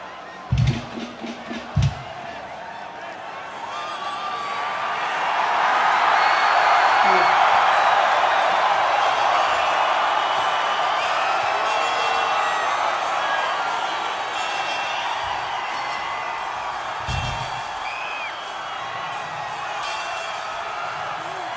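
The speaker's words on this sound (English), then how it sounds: "Wow, that's an insane crowd." A huge festival crowd at the Woodstock 99 concert roars and cheers in a long, swelling wash of noise that peaks midway and stays loud, with a few sharp thumps near the start.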